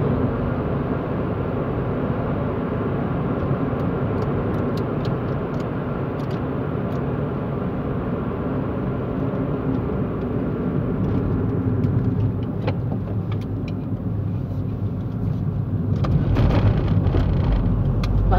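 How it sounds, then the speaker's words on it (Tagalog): Cars in road traffic rumble past with a steady broadband engine and tyre roar, close and continuous throughout, swelling slightly near the end, with no talk. "Yun lang pala yung mga sasakyan. Kala ko mahaba."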